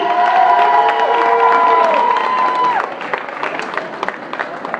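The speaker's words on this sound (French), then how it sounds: "Applaudissements pour lui" Audience cheering and applause for the third-place finisher at a 2014 battle results night in Bar La Marine, a loud crowd sound with whoops and a sustained tone that fades after about three seconds into scattered claps.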